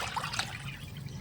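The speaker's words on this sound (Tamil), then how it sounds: "இப்போ இதை நல்லா கலந்து விட்டுட்டு கொஞ்சம் தண்ணி சேர்த்துக்கலாம்" Water poured into a homemade liquid garden fertilizer mix, a short, close, steady trickle and splash lasting about a second with no talking.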